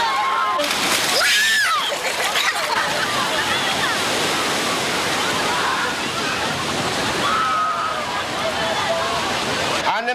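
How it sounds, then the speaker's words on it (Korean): Sea waves at Haeundae beach in Busan in summer roll and break in a continuous loud wash of surf and splashing, with a voice briefly heard over the water. "넘실대는 파도."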